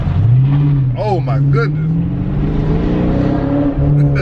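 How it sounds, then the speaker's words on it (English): A car fitted with a throttle controller accelerates hard, its loud exhaust roaring with a rising, sustained engine note close by while a man exclaims excitedly over it. "Got my exhaust screaming and everything"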